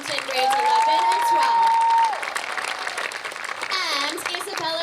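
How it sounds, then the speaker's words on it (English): A crowd at an awards presentation applauds and cheers a student honoured as best dancer, steady dense clapping with a sustained whistle-like tone early on, voices and cheers mixed in toward the end. "let's give a big round of applause for Grace Keating, Best Dancer in the town of Huntington"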